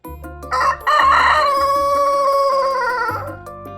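A rooster crows once, a loud, close, drawn-out cock-a-doodle-doo with a rising start and long held tail, heard alone against a light backing.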